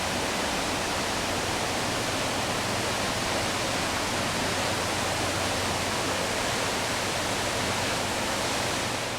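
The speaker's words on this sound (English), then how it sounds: "Latreille Falls." Latourell Falls in Oregon rushes steadily, a broad, even roar of falling water that holds constant throughout without any voices.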